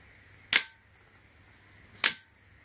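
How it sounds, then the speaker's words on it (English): A handheld rechargeable LED spotlight head gives two sharp, separate clicks as it is tilted without pressing its button, each crisp and close against quiet. "If you don't press the button, by moving, you're gonna hear a clicking sound."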